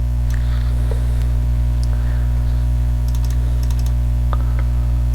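A computer keyboard clatters with sparse, light keystrokes in a basic computing workshop, scattered faint taps over a loud steady mains hum.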